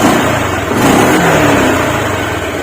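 A Honda Click scooter fitted with an HIRC high-flow air filter revs up close and loud, its engine note rising and holding steady with no talking.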